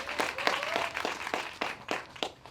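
Audience clapping at a community class event, quiet and sparse, coming as a run of distinct bursts at a loose, steady rhythm.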